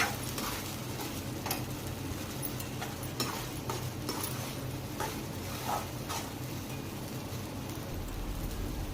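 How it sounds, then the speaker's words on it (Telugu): Curry gravy fries in oil in a pan while being stirred, making a steady close sizzle with scattered crackles and spoon scrapes throughout, with no talking. "బాగా వేయించుకోవాలండి కలుపుకుంటూ ఈ గ్రేవీ అనేది సరిగ్గా వేగకపోతే కర్రీ అనేది పచ్చివాసన వస్తుందండి"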